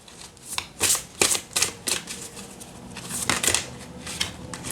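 Large oracle cards being shuffled by hand, a series of crisp riffling bursts, close and fairly loud, repeating in an uneven rhythm.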